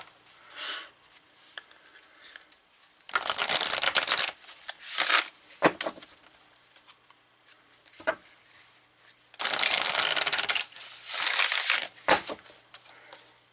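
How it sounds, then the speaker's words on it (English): Oracle cards are shuffled in several loud, riffling bursts separated by quieter pauses with small taps and rustles. "It just is very loud to shuffle."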